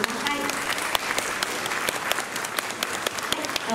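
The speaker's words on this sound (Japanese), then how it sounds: "本日一日所長を務めていただきます宮城千秋さんに今一度大きな拍手をお送りください" Audience applause at a one-day police chief event in Joyo, Kyoto, a steady, dense round of clapping from a crowd, sustained evenly throughout with a few sharper individual claps standing out.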